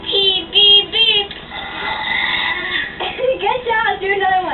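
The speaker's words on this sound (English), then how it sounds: "Given all your air for this burping contest, you're the very good burper here. So let's burp." A child burps loudly several times during a burping contest, with short, rough, croaky bursts and brief gaps between them, heard close up.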